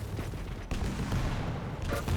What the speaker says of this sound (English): huge rockets coming out of both players